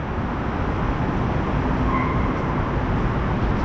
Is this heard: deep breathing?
no